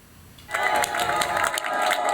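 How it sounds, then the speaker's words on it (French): Sustained applause from a crowd on a film shoot, played for the TV cameras: a dense patter of clapping that starts abruptly and carries on steadily, with a voice talking over it. "Ces applaudissements nourris sont en fait réservés aux caméras."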